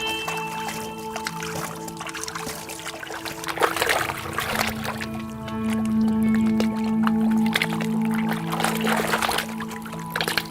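Water poured slowly over fine gold dust concentrate during sluicing with ijuk palm fiber, Manado method: a soft, continuous trickle and pour against a steady hum of background noise.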